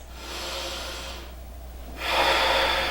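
Breathing during an advanced vinyasa yoga forward fold in Gomukhasana, with a steady breath hissing through the first seconds, a short pause, then a louder, rushing exhale near the end.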